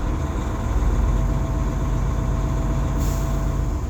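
A truck's air governor kicks out at 130 PSI during a pretrip inspection. A short hiss of released air cuts through near the end, over the diesel engine's steady idle.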